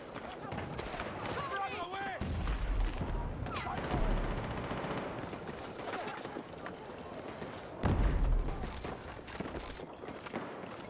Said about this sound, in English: where the hell are people shooting at? Like, what are they shooting at?